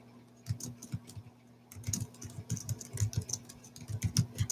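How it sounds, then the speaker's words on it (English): Typing on a computer keyboard: close, quick clicks in irregular bursts with a short pause, over a steady low electrical hum. "I'm typing it in now"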